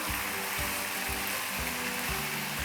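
Minced meat keema with tomatoes fries in a pan, a dense steady sizzle with soft periodic stirring thumps close by.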